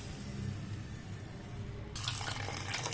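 Water poured from a tap over moong dal in a bowl, a faint low trickle that turns into a brighter, louder splashing stream partway through, with no talking.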